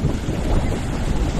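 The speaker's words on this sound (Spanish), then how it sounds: "que es donde rebotan las olas" Gulf of Mexico waves at Playa Los Pinos beach in Alto Lucero, Veracruz: a continuous loud rush of surf blended with heavy wind buffeting the microphone, with no voices.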